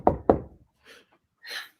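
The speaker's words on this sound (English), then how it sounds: "I hear a knocking at the south entry." Two sharp, loud knocks on a door at the south entry in a stage performance of Macbeth, followed by faint rustling sounds.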